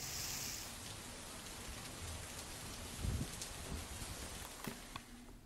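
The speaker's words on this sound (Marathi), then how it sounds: "पुण्यामध्ये खडकवासला धरण क्षेत्रात मुसळधार पाऊस सुरू आहे।" Heavy rain pours steadily over the Khadakwasla dam area near Pune, a dense continuous hiss with a few louder splashing bursts partway through, with no voices.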